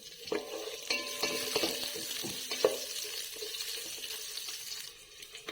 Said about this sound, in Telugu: దంచుకున్న తెల్లగడ్డ కూడా వేస్తున్నాను తెల్లగడ్డని వేగనిద్దాం ఉల్లిపాయ ముక్కలు వేస్తున్నాను